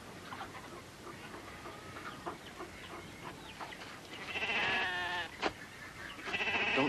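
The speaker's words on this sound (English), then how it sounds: "Now, these are sheep, boy. Nothing but dumb sheep." Sheep bleating, a flock heard at middle distance with several drawn-out wavering cries that overlap in the second half over a low outdoor murmur.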